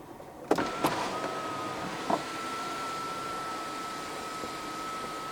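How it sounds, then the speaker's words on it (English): Panoramic sunroof shade motor on a 2021 Proton X50 1.5 TGDi Flagship, a couple of sharp clicks followed by a steady, thin electric whine running evenly inside the quiet cabin. "this one opens and closes the shade, while this one opens and closes the sunroof."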